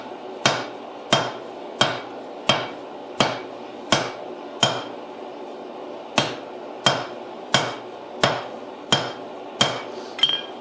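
Hammer blows ring out on a hot Damascus billet during forge welding, a steady series of about fifteen sharp, evenly spaced strikes, each decaying quickly, loud and close with no talking.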